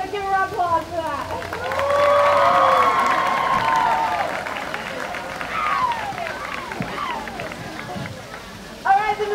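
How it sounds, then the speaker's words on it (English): A crowd at a high school homecoming applauds and cheers steadily for several seconds, a dense wash of clapping with excited voices rising on top, fading toward the end as a speaker's voice returns. "just give a round of applause for that"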